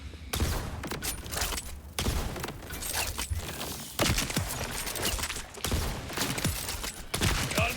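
The Hot Slugger weapon in Borderlands fires repeatedly in heavy, punchy blasts, shots landing in quick irregular clusters with short pauses between them, loud and continuous over several seconds without talk.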